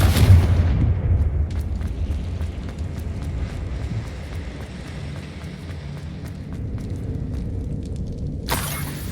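A Confringo explosion spell in Hogwarts Legacy sets off a loud booming blast at the start that rolls into a long fading rumble, followed by a sudden sharp burst near the end.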